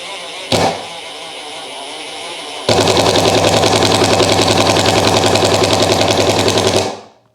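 An AEG BSS 18B6 18-volt cordless impact driver runs at its first speed setting, a brief blip of the trigger, then a sustained buzzing, rapidly hammering whir held for about four seconds before winding down and stopping.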